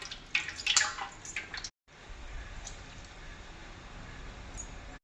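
Boiled ambadi greens are squeezed by hand, giving wet squelches and drips of water falling into a pot, loudest at first, then a brief silence and a softer watery trickle.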